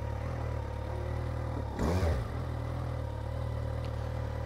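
A Kawasaki Z1000SX motorcycle pulls away gently, a brief throaty rev rising about midway through a quiet idle, then easing back to a low hum.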